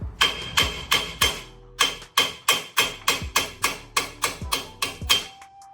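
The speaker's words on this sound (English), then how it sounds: "Take a hammer, bang it out." Sharp metallic hammer blows knock out a broken wheel stud on a Toyota Tacoma, about fifteen strikes in a steady rhythm with a short pause early on, close and loud.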